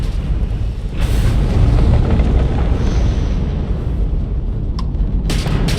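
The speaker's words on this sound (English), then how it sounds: "that's a Crimson Fleet ship bringing its weapons to bear" Crimson Fleet spaceship weapons fire in the space combat of the video game Starfield, a dense, loud rumbling roar of blasts with sharper bursts near the start and end, no talking.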